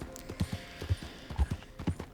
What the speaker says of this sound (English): Oh, what a day for horseback riding through the mountains.